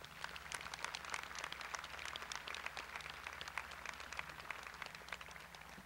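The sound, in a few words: applause at a high school graduation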